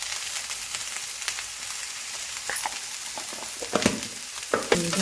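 Vegetables sautéing in a pan with turmeric for a Telugu kalagura mixed-vegetable dish, a bright continuous sizzle with scattered stirring scrapes and clacks growing busier near the end.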